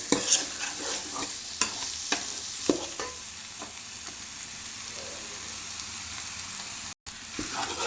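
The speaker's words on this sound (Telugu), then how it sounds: "చికెన్ కూడా ఇందులో వేసుకొని అంతా కలిసేట్టు మంచిగా" Chicken pieces coated in turmeric are stirred through a hot pan, a steady frying hiss broken by scraping spoon strokes and clinks, close and fairly loud with a brief dropout near the end.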